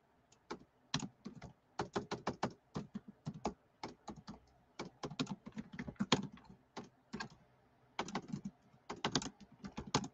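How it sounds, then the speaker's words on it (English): Fingers type steadily on a computer keyboard, with quick clusters of close key clicks broken by short pauses over about ten seconds, and no talk. "I'm just typing in my other channel."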